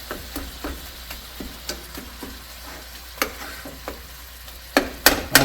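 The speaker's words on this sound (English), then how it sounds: "Deer meat's frying. All right, she's sizzling pretty good." Deer meat frying in a cast iron pan, a low sizzle punctuated by repeated scraping and tapping from stirring, with louder clanks near the end.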